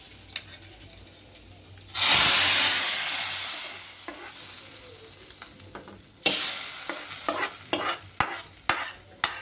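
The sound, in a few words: tempering curry leaves in hot oil for sambar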